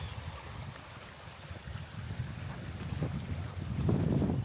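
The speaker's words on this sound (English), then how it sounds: "you can see the water flowing through, which is lovely" Water flows through a meadow stream beside a bridge on an estate walk, a soft, steady outdoor rush with low wind rumble that swells slightly toward the end.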